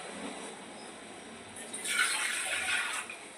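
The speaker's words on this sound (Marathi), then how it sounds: "तर आता कुकरमध्ये मी थोडंसं पाणी ओतून गरम करते" Water poured into a pressure cooker in a home kitchen, a soft splashing gush rising for about a second after a faint hiss, quiet and close.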